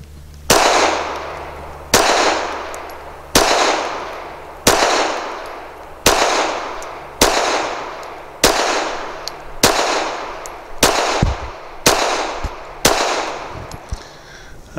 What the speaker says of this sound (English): Let's see, 11 rounds of 380